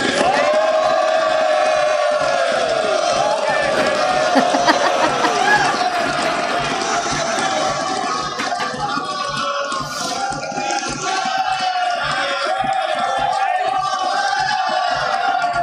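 A live audience at an Indian budget speech breaks into loud, continuous applause and crowd noise heard from a played recording, with shouts rising over the clapping.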